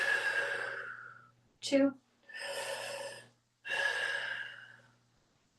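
Deep, audible breaths during a squat in an exercise class, three long drawn-out exhalations with a sharp gasp-like inhale between the first two, heard close up.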